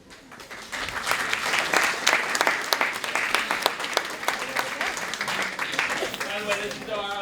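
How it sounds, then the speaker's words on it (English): Sustained applause from a crowd at a high school choice night, a dense wash of many hands clapping at full volume, with a few voices mixed in near the end. "Let's give him a round of applause, please."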